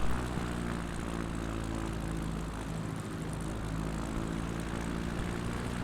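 An X Cub light propeller aircraft on final approach, full flap and a little power, gives a steady droning engine and propeller hum that stays even and close throughout.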